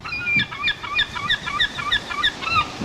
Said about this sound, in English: The crows. Yes, those are our friends who keep us on the clock.